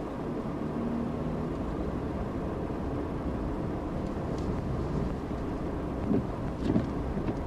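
A car creeps through a snowy blizzard at about 20 mph, its interior filled with a steady low road and engine rumble and broadband wind noise, with a couple of faint thumps near the end.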